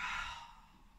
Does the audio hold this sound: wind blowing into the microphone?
no